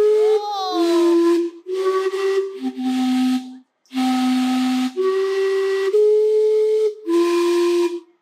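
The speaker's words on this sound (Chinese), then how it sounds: "蒸汽钟是世界上第一个利用蒸汽驱动的时钟，自1977年开始的每一天，每15分钟会喷出还算悦耳的钟声" Vancouver's steam-powered clock in the city centre sounds its chime: a sequence of loud, sustained steam whistle notes at shifting pitches, each a second or so long with brief gaps and a breathy hiss, one pause midway.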